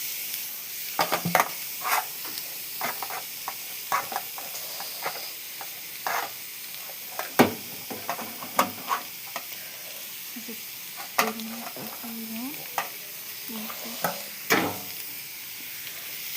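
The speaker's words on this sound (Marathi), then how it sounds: "तेल थोडं गरम त्याला मस्तपैकी तळून टाकायचं" Carrots frying in hot oil in a pan, a soft continuous sizzle broken by repeated sharp scraping stirs, close and fairly quiet.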